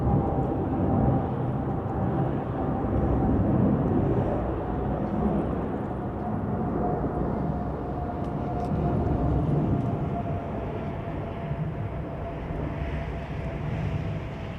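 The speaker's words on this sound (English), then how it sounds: "DHL 777 over the top." A DHL Boeing 777 cargo jet passes overhead at London Heathrow Airport, a steady broad engine roar with a faint whine that swells slightly and fades, moderately loud and heard alone.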